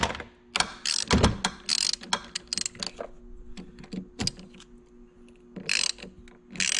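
A ratchet loosens bolts on an electric ATV's 5kW controller, producing close, irregular bursts of rapid pawl clicking with short pauses and metallic knocks between strokes.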